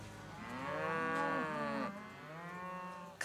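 A cow moos in a long, low drawn-out call, followed by a second softer moo, close by with little else around.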